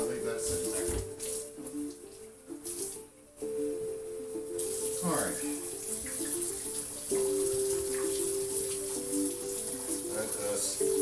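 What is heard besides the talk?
hot water running from tap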